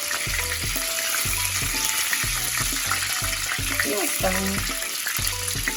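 Meat cutlets fry in a pan with a steady loud sizzle while someone speaks briefly over it in Ukrainian, and occasional clinks of a utensil against the pan come through.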